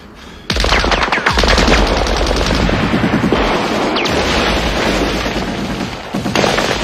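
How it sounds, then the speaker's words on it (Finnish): Dense gunfire with explosive rounds in World War II trench combat: loud, close bursts of rapid shots and cracking impacts running almost without a break after a sudden start. "Ryssä ampuu räjähtäviä."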